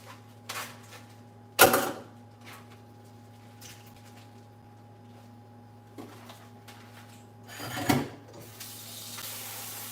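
A sink faucet runs as food is rinsed in a colander, a steady hiss of water with a couple of louder clatters and splashes.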